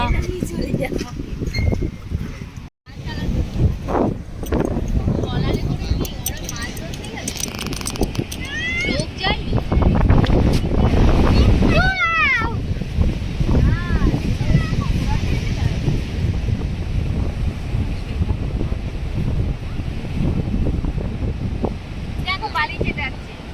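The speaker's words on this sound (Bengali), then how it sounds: "হ্যাঁ কি হাওয়া বাবা।" Strong wind at a beach buffets the microphone in heavy, continuous gusts, with people talking and calling out over the roar throughout.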